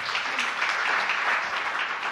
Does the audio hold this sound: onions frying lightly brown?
no